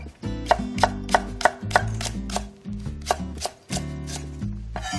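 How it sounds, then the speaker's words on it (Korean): Knife chopping green onion diagonally on a cutting board for sundubu jjigae, a fast run of about a dozen sharp, even chops up close, a brief pause, then more steady cuts, with no talking. "파는 어슷 썰어 주시고"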